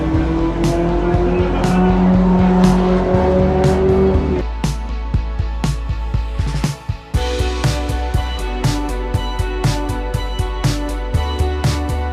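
Race cars roar past on Zwartkops Raceway in a pack of 38, a loud continuous engine drone with repeated sharp bursts and whooshes as cars pass, under a crowd's background noise.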